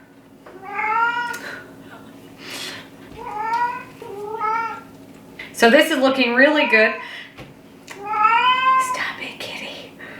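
A cat meows repeatedly at close range, several drawn-out cries spaced a second or two apart, while a person talks softly in between.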